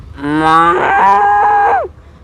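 One long, drawn-out moo with a falling end, loud and close, a third-grade child imitating a cow rather than a real animal.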